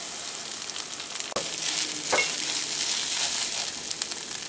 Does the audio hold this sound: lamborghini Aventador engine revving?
no